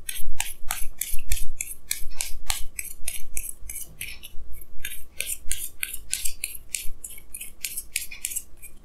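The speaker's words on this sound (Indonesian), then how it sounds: "Jadi di sini saya akan tarik lagi 2 kartu tambahan" Tarot cards are shuffled and drawn by hand: a quick, close series of crisp papery swishes and slides in an uneven rhythm, with no talking.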